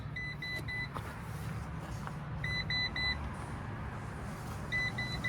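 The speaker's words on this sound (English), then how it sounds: "And I have the key, and that's why it's beeping." Repeated short electronic beeps in quick bursts of three or four, with pauses between, over a steady low engine-like hum; a key warning chime in a Ram ProMaster 2500 conversion van.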